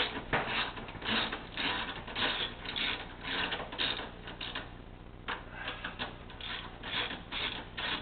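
A nipper UC tool is wound up by hand, giving a continuous run of close, rapid ratcheting clicks in uneven bursts with a brief pause midway, no talk.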